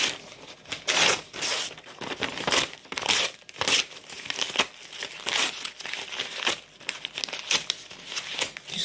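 A stack of paper is handled and crumpled, with repeated crackling crinkles in irregular bursts throughout, close and fairly loud, with no talk.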